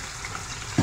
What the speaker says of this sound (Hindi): इसको गोश्त फ्राई हो रहा है